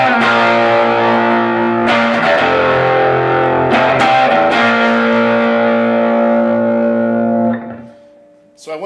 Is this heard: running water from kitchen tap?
no